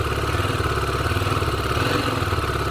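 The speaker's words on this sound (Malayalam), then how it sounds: "നല്ല രീതിയിൽ എൻജിൻ സൗണ്ട് ഈ വണ്ടിക്കുണ്ട്" A 2021 Husqvarna Svartpilen 250 motorcycle engine runs steadily at close range, a low even throb with a faint mechanical clatter and no voices.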